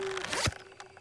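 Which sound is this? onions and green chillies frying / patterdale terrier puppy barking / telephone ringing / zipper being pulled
zipper being pulled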